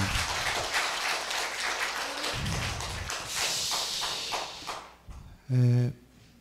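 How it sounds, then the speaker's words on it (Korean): An audience at a citizens' humanities lecture forum in Daegu claps in a busy patter that thins out, followed by a short, clear electronic tone near the end. "한문수 전 대구시 문화체육관광국장님께 다시 한번 큰 격려의 박수 한번 부탁을 드립니다"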